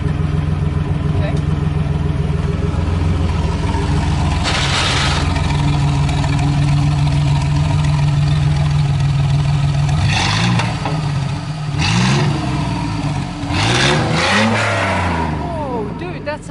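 A V6 car engine idles with a steady rumble, then revs sharply several times in quick bursts, loud and close.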